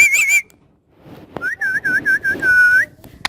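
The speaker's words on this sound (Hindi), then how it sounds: "मिट्ठू, ये सीटियाँ बजाता है।" A pet ring-necked parrot whistles: a short trill at the start, then after a pause and a single click, a longer run of clear, warbling whistle notes, loud and close with no talking.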